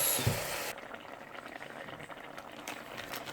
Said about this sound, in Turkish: İyice kavurduğumuz eriştenin üzerine üstünü kapatacak kadar kaynar su ekliyoruz.